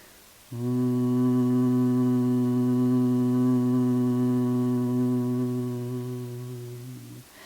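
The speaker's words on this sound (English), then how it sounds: "and then we exhale with a hum." A single steady, low hum of humming bee breath held for about seven seconds, buzzing and even, slowly fading slightly at the end of the exhale.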